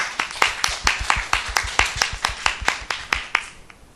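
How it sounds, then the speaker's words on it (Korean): A church congregation claps in thanks to God, a brisk, even run of roughly sixteen sharp claps close by, tapering off at the end, with no voices over it. "그래서 오늘도 이 기회 주신 하나님께 우리 감사의 박수 한 번 더 올려드리겠습니다"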